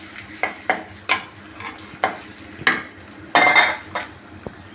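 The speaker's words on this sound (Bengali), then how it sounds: "ভালো করে নেড়ে নিব।" Chopped onions fry in hot oil in a wok for biryani, with a spoon stirring through them: a steady low sizzle broken by repeated sharp scrapes and clinks of metal against the pan, close and clear with no voices.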